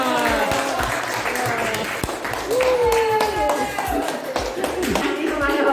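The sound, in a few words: audience applause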